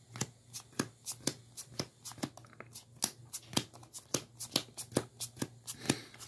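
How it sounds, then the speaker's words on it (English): A deck of trading cards in red sleeves is riffle-shuffled close up, a series of sharp, crisp flicks and snaps in an uneven rhythm, several bursts in quick succession with no talking. "So let's go ahead and shuffle the deck."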